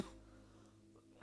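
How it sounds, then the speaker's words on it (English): A person gives a sudden loud cough at the end of a near-silent stretch, with low hum beforehand. "Sorry, I'm in the coughs right now."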